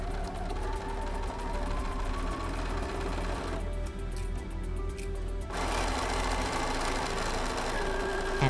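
An electric sewing machine chain piecing fabric wedges for a quarter Dresden quilt block runs in a steady, close, loud whir with no talking, pausing briefly in the middle before stitching continues.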